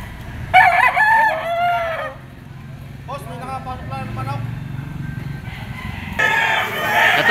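Gamecock roosters crow loudly at a fighting-cock market in Lipa, Batangas, two long crows near the start and end with faint crowing between, while someone talks over a busy crowd in the background.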